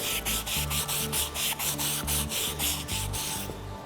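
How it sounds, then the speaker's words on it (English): Rhythmic rasping strokes of a sanding block rubbing back and forth on a horse's hoof wall after shoeing, about a dozen even passes, close and clear with no talking. "just shine the hoof wall with a sanding block"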